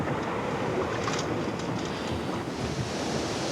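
Wind and waves at sea around a boat in a storm, a dense, loud, continuous roar of rushing air and breaking water with no letup and no talk.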